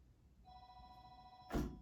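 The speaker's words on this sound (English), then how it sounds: "Phone always rings at the wrong time." Telephone ringing indoors, a single electronic ring tone holding steady for about a second, then cut off by a sharp knock, faint against a quiet room.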